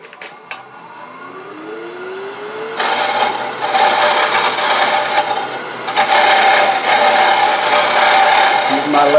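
Wood lathe spinning as a gouge thins the wall of a potpourri bowl, a steady whir that turns into loud, continuous rough cutting and scraping, with a voice briefly heard at the start.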